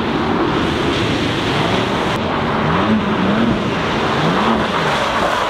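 A BMW M2 CS drifts on a wet circuit, its engine note rising and falling in slow sweeps beneath heavy, steady wind and spray noise, somewhat distant and washed out.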